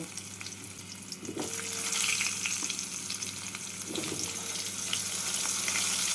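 Potatoes fry in hot oil seasoned with black cumin and green and red chillies, a dense continuous sizzle with a couple of soft stirring knocks, close and steady.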